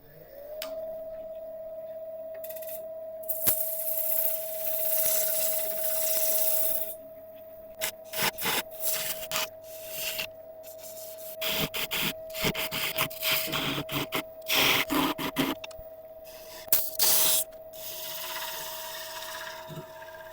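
Steady raspy sanding of a turned wooden log piece against a spinning lathe, with a constant motor hum underneath and bursts of rougher friction coming and going.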